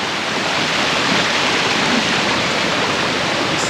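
A waterfall roars in a steady, dense rush of falling water, loud and continuous from start to finish with no voices.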